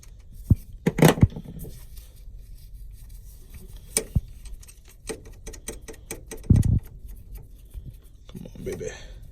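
A ratchet with a 10mm socket works bracket bolts loose on a 2006 Honda Element engine, giving sparse clicks and taps, a few louder metallic knocks and scrapes, and a voice talking in between.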